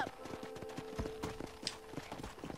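Horse hooves clip-clop in Red Dead Redemption, a quick irregular run of close, crisp hoof strikes over a low steady hum, with a brief rider's call near the start.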